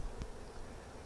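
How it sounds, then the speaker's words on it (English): Honey bees around double nuc hives give a brief low, close buzz over a faint hum, with no voices. "Bees are on it."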